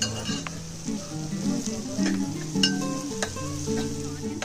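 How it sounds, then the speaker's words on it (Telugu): Ginger garlic paste fries in a curry pan, a close crackling sizzle with spoon stirring and occasional light clinks, no talking. "అల్లమెల్లి పేస్ట్ వేసుకుందాము కర్రీ పేస్ట్ అనేది బాగా ఫ్రై అవ్వనివ్వాలి"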